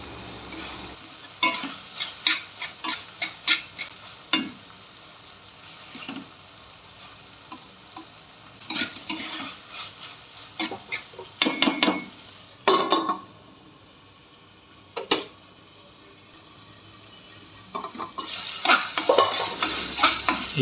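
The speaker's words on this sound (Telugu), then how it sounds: "ఇలా అట్లకాడతో కలుపుతూ నొక్కి చూడాలి, ముక్క మెత్తబడిందో లేదో" A spatula stirs pieces of ridge gourd frying in a pan, giving irregular scraping clinks and bursts of sizzle over a low background hiss. Quieter gaps fall between the clusters of stirring.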